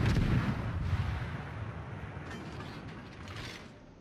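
Naval gunfire in a video game, blind shots lobbed at a Farragut destroyer over a mountain: a dull, booming rumble that fades away over a few seconds, with faint mechanical creaks, and no talking.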